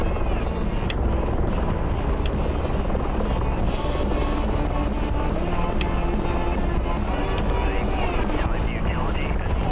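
A helicopter's rotor drones loud and steady throughout a war video game scene, a continuous dense roar with faint ticking impacts, and a voice talking over it.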